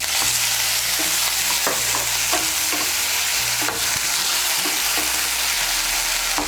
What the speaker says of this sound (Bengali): আদা বাটাটাকে মিশিয়ে নিয়ে উচ্ছেটাকে আর একটু ভেজে নিয়েছি।